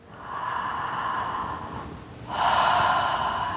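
A deep diaphragmatic breath drawn in as a long, close airy inhale, a brief pause, then a second, stronger rush of breath, loud and alone without speech.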